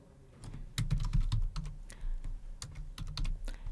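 Fingers tapping a computer keyboard in quick irregular bursts of crisp clicks, close and fairly quiet, with short pauses between runs of keystrokes.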